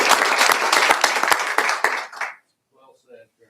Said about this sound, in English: Let's give Bob a round of applause.